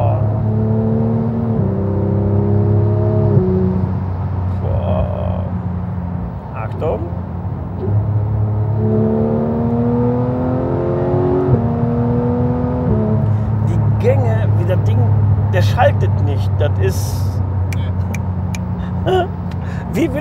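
A Porsche 911 GT3 in Miami Blue accelerates on the road, its engine rising in pitch through repeated gear changes, loud and close from inside the car, with a voice talking over the drive.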